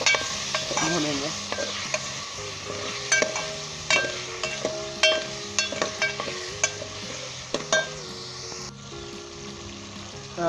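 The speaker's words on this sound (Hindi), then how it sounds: "अब इसके अंदर हम आलू शामिल कर देंगे। तो अच्छे तरीके से इसे 5 मिनट के लिए हम भूनेंगे।" Potatoes fry and get stirred in a pan for a potato, egg and chicken curry, a steady close sizzle broken by repeated scraping strokes and clinks of the spoon.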